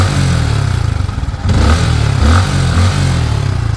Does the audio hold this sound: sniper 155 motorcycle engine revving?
yes